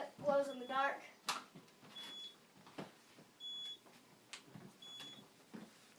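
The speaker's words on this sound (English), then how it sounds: "There's the alarm." An elevator control panel alarm gives short, high, evenly spaced beeps, sounding about three times at moderate volume. Room noise and a brief human voice come at the start.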